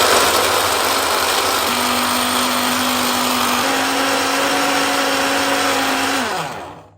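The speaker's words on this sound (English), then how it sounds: "I'm gonna add this into my blender and then add milk and then mix" A kitchen blender whirs steadily, loud and close, while blending a salted date iced latte with milk; its motor pitch rises slightly midway before spinning down and stopping at the end.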